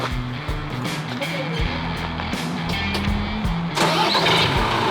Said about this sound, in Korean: 시동 한번 걸어보세요.